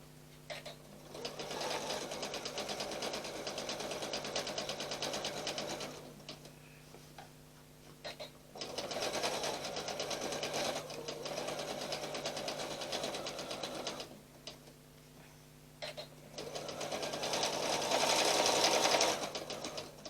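Sewing machine top stitching, running in three steady bursts of fast, rhythmic ticking needle action with short pauses between, close and moderately loud with no talking.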